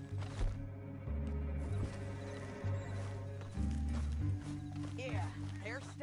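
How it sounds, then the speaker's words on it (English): Horse hooves clip-clopping steadily in a video game, with a whinny now and then, a low droning score, and voices talking over the top. "And that sure is Shane Finley coming off the back of his horse."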